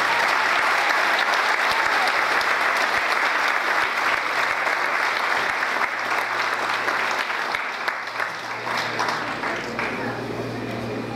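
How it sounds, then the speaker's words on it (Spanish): A church congregation claps loudly and steadily for about eleven seconds, a dense wash of applause that fades slightly near the end, with a voice faintly heard underneath. "Dame un aplausito al Señor,"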